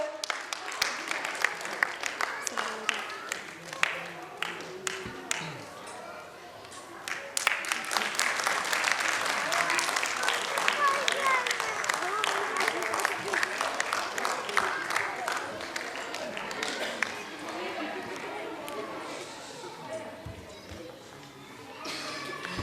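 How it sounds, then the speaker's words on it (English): Parents applaud at a school annual concert with sustained, dense clapping that lasts throughout, swelling louder midway and thinning toward the end, with a voice faintly heard beneath. "I request all parents to please keep applauding."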